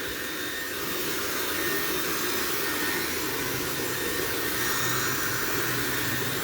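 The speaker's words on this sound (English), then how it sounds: "we're almost done with the blow drying" A handheld hair blow dryer runs steadily while drying a woman's freshly cut long layered bob, a loud constant airy roar with no pauses.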